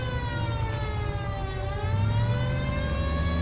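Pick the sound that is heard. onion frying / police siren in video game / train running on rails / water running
police siren in video game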